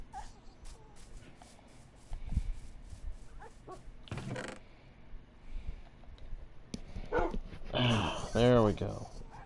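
Pups in the Minecraft video game give scattered yips and barks, louder toward the end, mixed with game sounds and someone talking.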